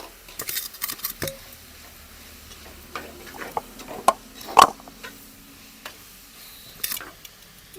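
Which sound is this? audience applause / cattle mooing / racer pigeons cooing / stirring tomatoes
stirring tomatoes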